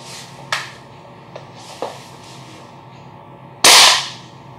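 WE Tech G39C G36 airsoft gas blowback rifle firing 0.2 gram BBs through a chronograph: several separate sharp cracks at uneven intervals, close by, ending with one loud burst that rings out.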